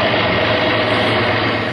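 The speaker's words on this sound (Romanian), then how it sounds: "tractorul reversibil Goldoni Master 70" The engine of a Goldoni Master 70 reversible tractor runs with a steady, dense drone and no change in pitch or level across the short stretch.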